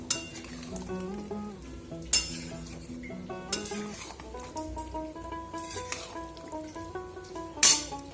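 Soybean and potato curry stirred in a pan after water is added, with repeated scraping and metallic clinks of a spoon against the pan over a soft simmer, several sharp knocks standing out.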